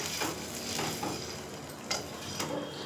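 Hot tempering sizzles in a pot of cooked amaranth leaves, a soft continuous crackle with several brief scraping and clinking strokes of a spoon stirring, and no voices.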